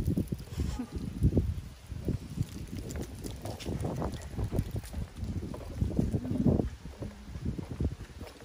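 Gusty wind buffets the microphone at a county park in Walton County, Florida, making uneven low rumbles that swell and fade for several seconds.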